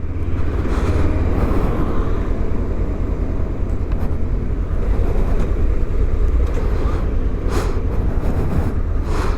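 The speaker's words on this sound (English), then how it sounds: "So let's watch the traffic." Steady, loud road traffic noise in London, heard from a moving motorbike, with a continuous low engine and wind roar throughout and no talking.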